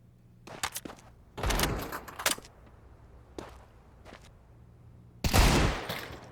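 Desert Eagle pistol shots in a competitive Counter-Strike style esports match, several sharp loud bursts spaced irregularly with quieter game noise between them.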